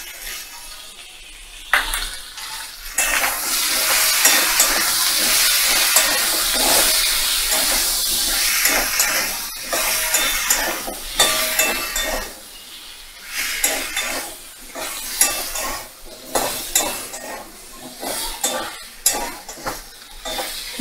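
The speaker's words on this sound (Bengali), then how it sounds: "মশলাটা কষানো হয়ে গেছে" Spice paste with a little ground cumin sizzles loudly in a pan while being stirred and scraped, a steady hissing fry broken by rhythmic stirring strokes, close and continuous with no talking.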